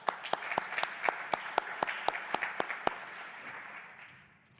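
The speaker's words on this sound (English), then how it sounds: "Warm applause." A conference audience applauds panelists at a Nordic healthcare event. Steady applause with sharp, evenly spaced close claps runs over it, then the sound tapers off toward the end.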